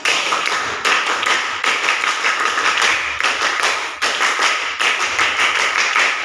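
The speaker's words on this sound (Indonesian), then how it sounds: "Tepuk semangat." Children perform the rhythmic 'tepuk semangat' spirit clap at school, a loud, dense run of quick hand claps in repeating patterned bursts with short breaks between phrases.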